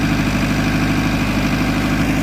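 A plain three-year-old engine idles steadily, loud and close, with a constant low rumble and a faint rhythmic knock throughout and no voices.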